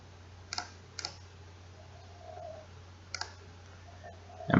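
Sharp, close computer mouse clicks in a quiet room, paired clicks repeated a few times across the moment, with faint background hum and a louder knock at the end.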